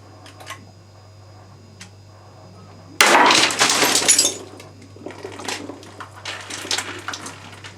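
A wine glass stem snaps with a sudden sharp crack in a high-speed photography setup, followed by a burst of tinkling and clattering that fades into lighter scattered ticks.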